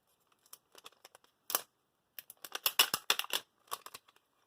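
A notched packet of solid-color nail polish strips is torn open by hand in short crinkly rips and crackles, with a burst around the middle and a busier cluster of tearing toward the end, close and fairly quiet.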